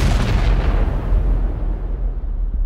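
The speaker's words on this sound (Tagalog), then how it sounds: "agad iyong nagliyab at sumabog" A burning car explodes in a deep, heavy boom that rolls on as a rumbling roar and slowly fades over a couple of seconds, loud and close, with no voices.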